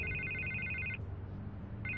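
A telephone rings in the Batman Telltale video game, an electronic trilling ring in two bursts separated by a pause, heard faintly over a low background hum.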